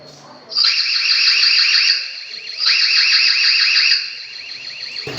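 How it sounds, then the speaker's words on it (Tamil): A 4G pan-tilt home CCTV camera's alarm siren sounds loud and close, a rapidly warbling electronic tone in two long bursts separated by a brief dip, with a voice faint in the background. "அலாரம் அடிக்கிறப்போ இந்த மாதிரி நைட் டைமில் ஃப்ளாஷஸோட அலாரமும் சேர்ந்து கேட்கும்."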